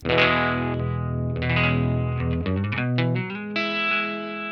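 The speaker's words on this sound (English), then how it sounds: "the thing that I like the most about it is that Univibe kind of sound" Guitar played through a Univibe-style modulation pedal with distortion; sustained chords swirl, pulse and warble continuously, loud and up close, with no talking.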